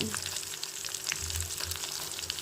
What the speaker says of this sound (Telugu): అల్లం కూడా ఆయిల్లో వేయించుకునేటప్పుడు ఎండు మిరగాయలు